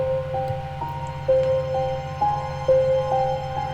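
Somber Resting Grounds music from the video game Hollow Knight, with sustained tones shifting pitch in slow steps over a steady low drone, soft and continuous with no talking.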